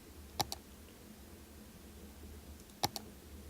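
Two quiet, sharp mouse clicks about two and a half seconds apart, each a quick double tick, while navigating a Cities: Skylines menu on a computer, with faint room hum and no talking.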